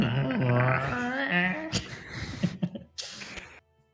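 A dog growls in a low, drawn-out rumble that turns into a whine, followed by a few brief scuffling noises before the sound cuts to near silence.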